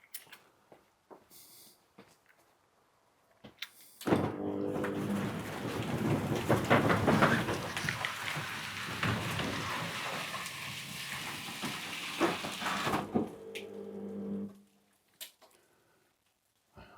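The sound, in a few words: garage roller door operating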